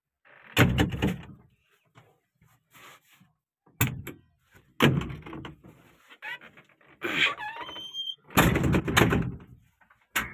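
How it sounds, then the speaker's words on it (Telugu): Several heavy vehicle door thuds and slams, with rustling and movement between them, close by, plus a brief squeaky whine in the middle. "మనమైతే ఇప్పుడు ఈ డోర్లు ఓపెన్ చేసుకోవాలి."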